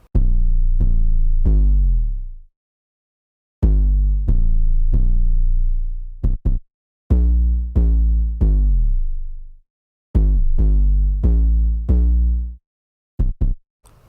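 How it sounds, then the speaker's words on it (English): Deep 808 bass notes follow the beat's root notes in a rhythmic pattern of booming hits, some sustained and decaying, separated by short gaps and brief silences, loud and alone. "So this is the 808."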